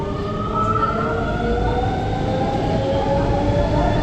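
A VAL 208 metro train, unit HP109, runs between CHU Eurasanté and 4 Cantons Stade Pierre Mauroy, giving a loud, steady rumble of rolling wheels with a whining motor hum that stays constant throughout.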